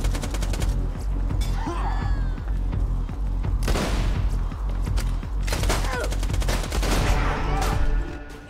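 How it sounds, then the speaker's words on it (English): Shotgun fire in the video game Borderlands 2: sharp, loud blasts in clusters amid a busy stream of game combat noise, with the heaviest bursts coming near the middle and end. "Shotgun."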